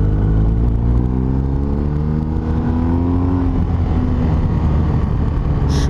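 BMW R1250RS boxer-twin motorcycle engine on the road, a loud continuous hum that rises steadily in pitch as it accelerates, with wind rushing throughout.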